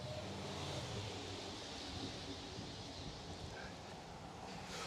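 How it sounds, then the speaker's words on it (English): Steady, broad wind roars and buffets outdoors in a small town during drizzly weather, a continuous rushing hiss with no talking. "windy, drizzly weather"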